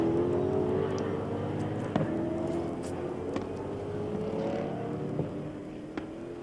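Race cars roar around the track during a 2011 International Superstars touring car race, including Max Pigoli's powerful heavier car, a continuous loud engine drone with shifting pitch as cars accelerate and pass.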